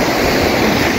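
Surf washes continuously at Senggigi beach on Lombok, a loud, dense hiss of breaking waves mixed with wind buffeting the microphone, steady throughout with no voices.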